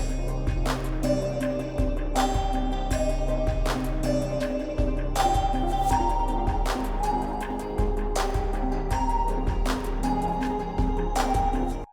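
An unmodulated stock Serum 2 bell synth preset plays in unison with a looping electronic beat, bright bell tones riding over steady, punchy kick and percussion hits throughout twelve seconds of continuous music.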